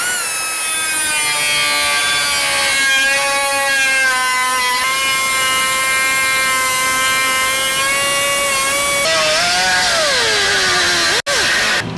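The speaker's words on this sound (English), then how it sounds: "go ahead and trim this brake dust shield" A power tool whines steadily while trimming the brake dust shield on a 2019+ Chevy 1500 during a lift install, a loud continuous high-pitched cutting drone with a brief dip in pitch near the end.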